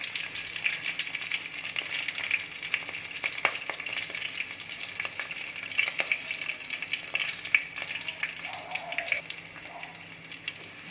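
Onion and sliced green chillies frying in a pan for a fish curry (meen kulambu), giving a constant bright sizzle and crackle with occasional stirring scrapes, close and steady throughout with no talk.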